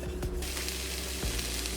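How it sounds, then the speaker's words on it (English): Shrimp egg roll mixture hitting coleslaw mix in a hot wok, a steady close hiss of frying with a few soft knocks and stirring sounds throughout. "I'm gonna go ahead and add this into the wok with our coleslaw mix"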